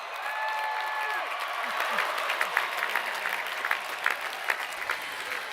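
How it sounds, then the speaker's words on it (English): Graduating class of 2022 receives sustained applause at the William & Mary undergraduate commencement ceremony, a dense, steady clapping from a large crowd that keeps an even level throughout, with scattered louder claps and occasional cheers. "please join me for a final boisterous, really, really rousing round of applause for the class of"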